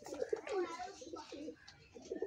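Pet pigeons kept at home coo quietly in low, rolling bursts, faint and close, with a few soft murmurs in between.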